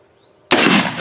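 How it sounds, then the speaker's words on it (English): A single loud rifle gunshot cracks sharply out of near silence and leaves a brief ringing echo. "He's lined up, ready to shoot."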